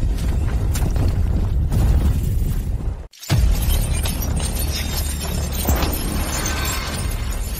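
A dragon's chain shatters in a fantasy scene, with dense crashing, grinding and rumbling that cuts out abruptly into a moment of silence before resuming as a loud, churning roar of breaking debris.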